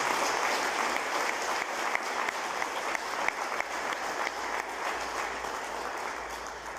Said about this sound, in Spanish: Y yo pido un aplauso para aquellos que ya no están.